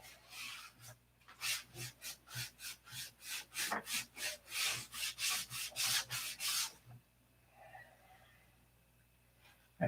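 Paint is rubbed back and forth by hand so black shows through, about twenty quick rhythmic scrubbing strokes that are close and gritty, speeding up before stopping, followed by faint quieter handling.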